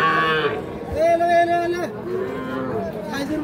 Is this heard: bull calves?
yes